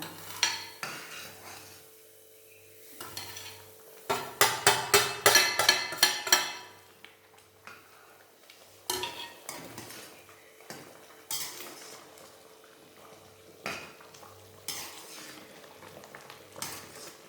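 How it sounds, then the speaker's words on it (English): Semolina stirred into boiling water for south Indian upma, a clatter of spoon against pot with a dense burst of scraping and stirring in the middle, then scattered knocks over a low simmer. "So slowly stir and add the semolina."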